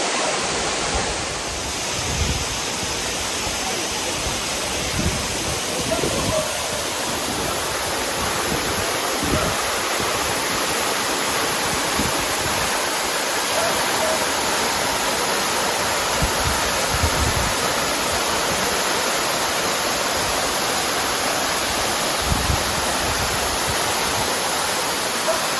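Crabtree Falls in the Blue Ridge roars as a steady, dense wash of falling water at the base of the falls, loud and unbroken throughout with no clear voices.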